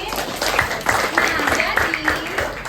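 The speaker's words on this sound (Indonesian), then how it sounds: "Tepuk tangan lagi." A classroom group claps in a physics lesson, rhythmic hand claps repeating steadily over the whole stretch, with voices talking over them.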